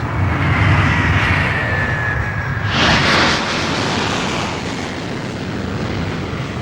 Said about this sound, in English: The wingtips on this 747 flex through several feet from the impact of landing at over 5 times the normal rate of descent.